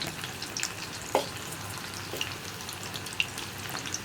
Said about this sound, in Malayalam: ചൂടായ എണ്ണയിലേക്ക് മാരിനേറ്റ് ചെയ്ത് വെച്ചിരിക്കുന്ന കോളിഫ്ലവർ ഇട്ട് കൊടുക്കാം.